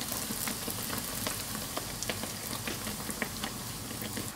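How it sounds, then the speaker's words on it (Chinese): Dough cakes (youbing) deep-frying in hot oil at about 180 to 200 degrees, a steady dense crackle and bubbling with scattered sharper pops, close and constant throughout with no talk. "放入油饼生坯，用筷子敲一敲"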